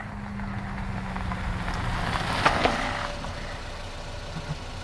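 Car engine idling in an audio drama scene after pulling into an apartment complex, a steady low rumble with a couple of brief knocks or clunks near the middle, alone with no voices.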